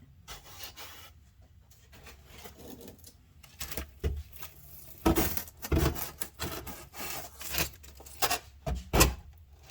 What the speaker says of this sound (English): See all the edges where the plaster is that needs to be cleaned up, and I'll take some sandpaper to that.